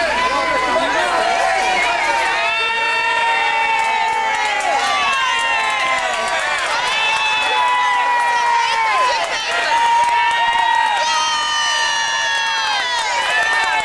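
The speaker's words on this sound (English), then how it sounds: "They're all cheering as Jim Baker came in." A large crowd cheers and shouts continuously as Jim Baker arrives at an election-eve George Bush Sr. campaign rally in Madison, New Jersey, the dense roar mixed with whistles and excited voices throughout.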